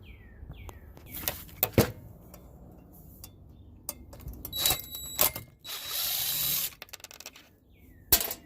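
A power drill backs screws out of extruded aluminum scrap, with short bursts of whirring and clicking in a close, busy workshop and several separate runs of varying length.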